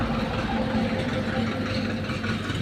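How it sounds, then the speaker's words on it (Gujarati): A tractor engine runs steadily at a village field, a continuous low idling drone that stays close and even throughout with no talk over it. "જો ટ્રેક્ટર આવી ગયો અમારે ચેડવા માટે"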